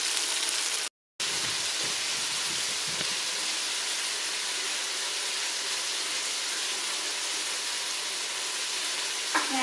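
Carrots and celery fry in a pot with browned beef and onions for a beef stew, a steady, even sizzle that runs throughout, broken by one brief silent gap near the start.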